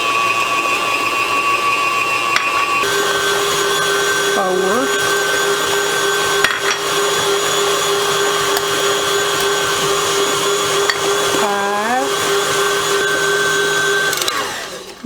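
An electric hand mixer runs steadily and loudly, beating pound cake batter after a third egg is added, its motor whine continuous with brief pitch dips as the beaters move through the thick batter.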